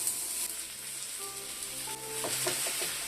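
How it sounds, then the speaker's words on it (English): Steady oily sizzling of food stir-frying in a hot, smoking wok, with clinks and scrapes of stirring toward the end. "You always need to hear the sizzling."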